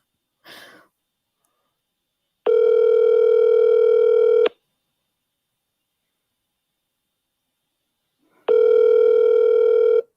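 A telephone call rings out unanswered: two long electronic ring tones, each about two seconds, separated by a long silence, preceded by a brief soft breath or rustle.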